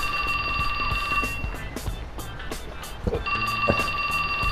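A cell phone rings in a repeating electronic ring pattern, loud and close, with bursts separated by short gaps and busy background noise beneath.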